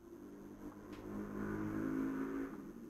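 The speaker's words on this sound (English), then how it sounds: "Of course the noisy car had to go through my window now" A noisy car passes outside a window, a faint low engine rumble that swells in the middle and fades, heard indoors at a distance with no talk.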